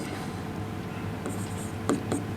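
Chalk or marker writing a wattmeter formula on a board during an electrical lecture on power and energy measurement, faint scratchy strokes with a couple of sharper taps near the end, fairly quiet against room noise.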